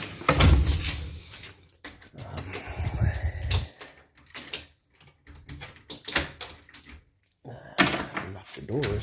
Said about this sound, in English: Lock the doors.